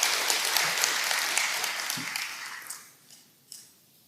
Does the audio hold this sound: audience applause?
yes